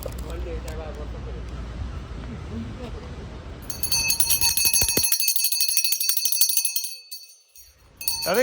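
A bell rings out loudly and close at a handicrafts fair stall, its bright metallic tone shimmering and slowly fading; people talk in the background just before it rings.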